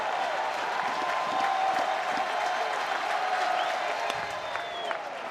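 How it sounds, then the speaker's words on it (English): Steady crowd noise from spectators at a college baseball game between Florida and South Carolina, applauding and cheering throughout at a constant, fairly loud level, with a faint whistle-like tone rising near the end. "Here comes this crowd again."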